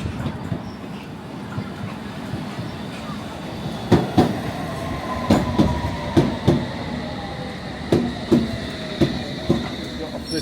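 A London Underground Hammersmith and City Line train rumbles steadily, with a string of sharp rhythmic wheel clacks over rail joints and faint squeal, while a voice speaks quietly underneath.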